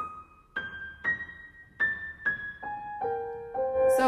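Solo piano playing measures 118–119 of Beethoven's Sonata Op. 111, a slow right-hand figure of single high notes stepping downward one after another, clear and close with no talking.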